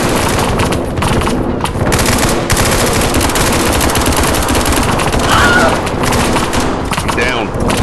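Loud, sustained automatic gunfire rattles nonstop during an SCP: 5K raid on Area 12, with rapid bursts layered over each other and a voice talking faintly underneath.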